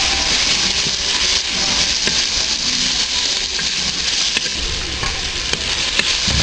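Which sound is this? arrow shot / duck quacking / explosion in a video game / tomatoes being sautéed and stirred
tomatoes being sautéed and stirred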